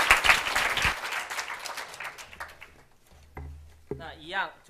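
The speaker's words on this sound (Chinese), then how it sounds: "举起双手，掌声鼓励" An audience at the COSCUP 2011 open-source conference gives a burst of loud clapping after a talk on OpenOffice.org. The applause thins out within about a second and a half, followed by scattered claps and a voice speaking.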